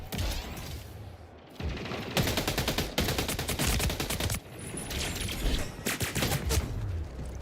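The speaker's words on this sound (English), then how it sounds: "I can't even get in one gunfight with anybody without somebody else shooting at me." Rapid automatic gunfire crackles in a chaotic multiplayer gunfight in the shooter game Splitgate 2, long sustained bursts of dense shots with brief pauses between volleys, loud and close.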